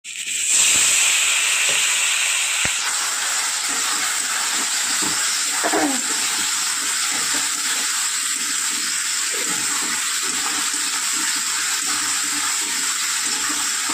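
Water poured into a hot pan of tomatoes for a potato and pointed gourd curry, setting off a loud, sustained steamy hiss that lasts the whole stretch with faint bubbling and clinks underneath, close up and without speech.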